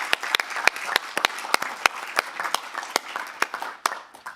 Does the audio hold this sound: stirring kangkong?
no